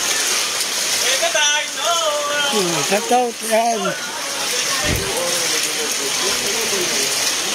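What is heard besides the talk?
strong ocean waves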